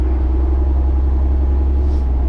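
An Oshkosh truck engine idles steadily after starting up, a loud, constant low rumble with no breaks, close by and alone.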